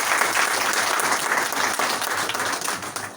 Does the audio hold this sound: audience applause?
yes